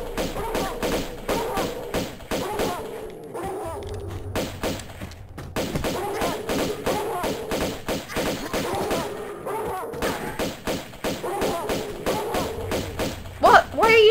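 Gunshots ring out in Tomb Raider II Remastered, a run of rapid sharp thuds and pops that repeat through most of the stretch, heard under someone talking.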